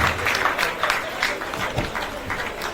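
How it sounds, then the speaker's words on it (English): A crowd applauds panelists and a moderator after a panel session on peacebuilding with security leaders and farmers, the clapping a steady dense patter that fills the room, with some voices mixed in. "Another round of applause for the panelists as well as the moderator of the panel session"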